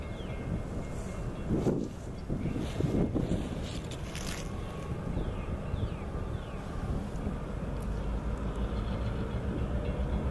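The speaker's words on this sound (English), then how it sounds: "2628 rolled off the engine house track and onto the little used main line" MDDE diesel locomotive 2628 rolls slowly off the engine house track onto a little-used main line, giving a steady low rumble and mechanical drone with faint squeals and clanks, heard from nearby with no talk.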